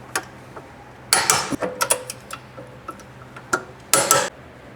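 Ratchet wrench clicks while torquing down bolts during a Subaru shifter install with poly bushings, close-up bursts of rapid metallic ticking separated by short pauses, no talk.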